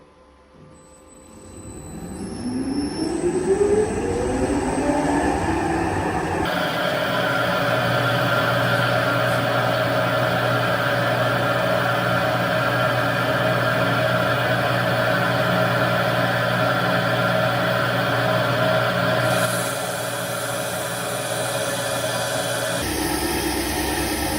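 An MRT-26 CNC rim surface cleaning lathe cuts an alloy wheel rim, spinning up with a rising whine, then settling into a loud, steady machining drone that drops off near the end.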